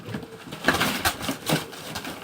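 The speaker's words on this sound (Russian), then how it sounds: "Это голубь Акай Махмада." A pigeon belonging to a Dushanbe pigeon keeper coos close by in a few soft, rounded calls over quiet background noise.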